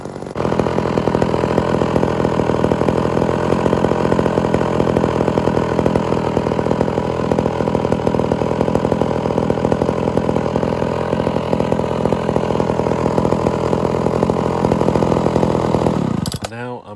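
A Homelite Super XL chainsaw with a rebuilt Tillotson carburetor and a suspected bad cylinder or piston runs steadily and loudly close by, a continuous buzzing drone for about sixteen seconds before cutting off abruptly.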